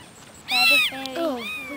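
One-day-old newborn kittens from two litters give high, thin meows, two short cries in close succession, heard near and fairly loud.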